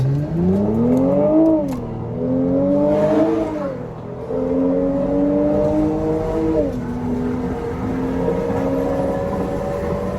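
A Mercedes-Benz SL450 hardtop convertible with automatic transmission accelerating hard, the engine note climbing and dropping through several smooth gear changes, loud and close from inside the car.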